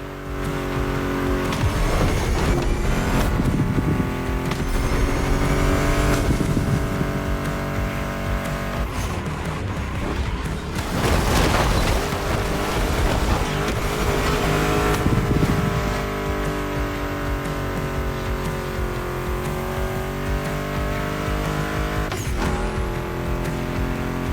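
Mustang GT muscle car engines in The Crew Motorfest video game roar and rev with tire squeals over driving rock music, continuous and loud throughout.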